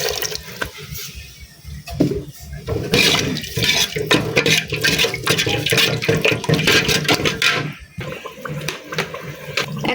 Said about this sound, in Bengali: এখন আমি দিয়ে দিব এই যে পাটা ধোয়া পানিটা।